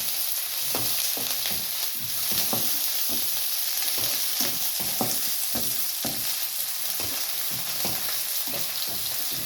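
Curry leaves frying in a hot pan, a constant dense sizzle broken by repeated crackling pops and stirring scrapes at close range, with no talking.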